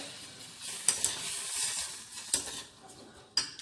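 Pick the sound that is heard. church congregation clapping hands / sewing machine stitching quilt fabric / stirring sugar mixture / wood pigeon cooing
stirring sugar mixture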